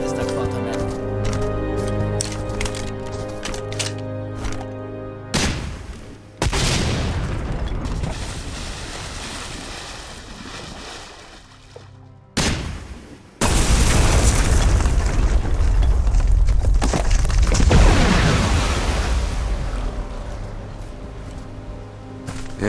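Rock-blasting explosives in the Deadfall Adventures (2013) video game, two loud booming bursts with long rumbling debris tails, set over a steady game score and with voices talking in between.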